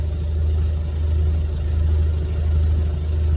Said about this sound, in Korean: 저 건너편에도 불을 밝히고 엔진 소리를 키웠습니다